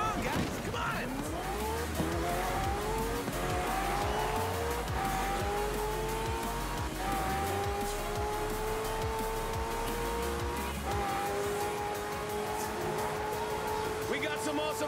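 Hypercars race in Forza Horizon 4, their high-revving engines climbing through repeated gear shifts with screeching tires and rumbling passes, while voices can be heard over the racing.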